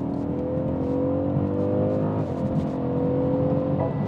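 A BMW G30 M550i with a V8 engine accelerates, its engine note rising and holding as a steady, loud drone heard from inside the car, with the pitch shifting as gears change and no talking.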